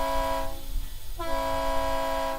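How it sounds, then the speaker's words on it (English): A train horn sounds loud and close as a 20th Century Limited passenger train arrives at Chicago's LaSalle Street Station: a sustained chord blast, a brief break, then a second long blast over rumbling rail noise. "Our 20th Century Limited train arrives at Chicago's LaSalle Street Station at 7:45 a.m."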